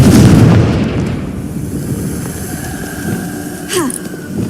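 A single loud blast from the Confringo spell in Hogwarts Legacy booms at the start, then decays into a low rumble with faint game effects trailing after.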